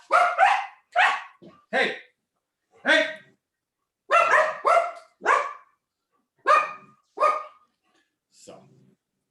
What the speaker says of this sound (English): Dogs, those are barking.